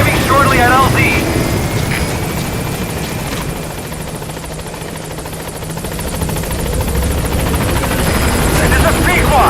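A helicopter in Metal Gear Solid V arrives at a landing zone, its loud, steady rotor roar filling the whole stretch, dipping slightly midway and swelling again, with brief radio-style voice bursts near the start.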